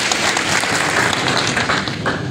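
Audience applause for faculty, staff, officers and students at a university lecture launch event, a dense steady wash of clapping filling the room for a couple of seconds without a break.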